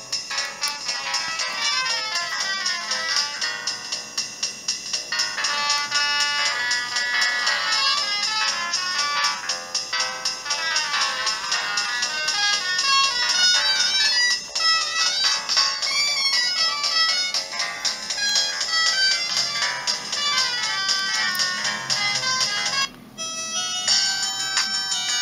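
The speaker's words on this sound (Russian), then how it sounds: "кто помнит эти рингтоны" Polyphonic ringtones from a Samsung C100 mobile phone play loud and continuous, a bright electronic melody cycling through several tunes with a brief cut near the end.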